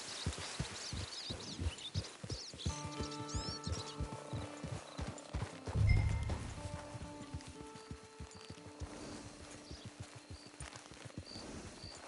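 Horse hooves clip-clop at a steady, rhythmic pace in the Red Dead Online video game, continuing throughout at moderate loudness alongside sustained in-game music tones and a brief low thump midway.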